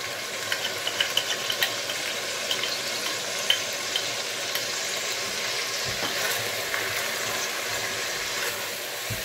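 Onions fry in a pan for Balti gosht, making a steady dense sizzle with occasional light stirring clicks, close and continuous with no talking.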